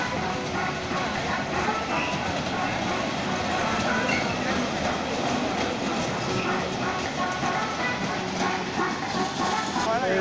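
A park ride train runs steadily at Kamruzzaman park in Rajshahi, a continuous rumbling, clattering rail noise throughout with people talking over it.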